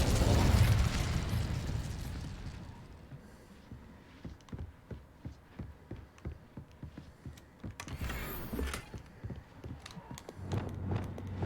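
Fire spell cast in the video game Hogwarts Legacy, a loud opening whoosh and burst that fades into a long run of rhythmic pops and crackles, ending with another swelling blast.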